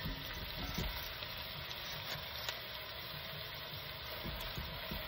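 Cabbage going into a pan over medium heat for fried cabbage with sausage and bacon: a soft, steady sizzle and crackle throughout, fairly quiet, with faint stirring bumps.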